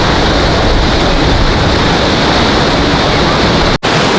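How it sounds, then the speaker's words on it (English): A small waterfall at a zoo, built as a reproduction of a broken bridge, pours in a steady, dense rush of water that stays loud and unbroken throughout, with a brief dropout near the end. "really nice little waterfall and it's sort of a reproduction of a broken bridge"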